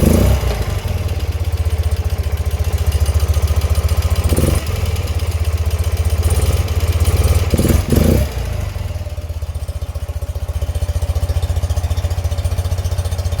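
A 1978 BMW R 80/7 motorcycle engine, freshly rebuilt carburetors, idles steadily and loud close by with a low, even throbbing pulse, a couple of brief blips partway through, no talking.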